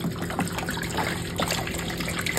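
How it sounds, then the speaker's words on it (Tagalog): Water is poured steadily into a cooking pot over fried pork hock for pata tim, a continuous splashing trickle at close range with no speech. "Lagyan natin siya ng tubig."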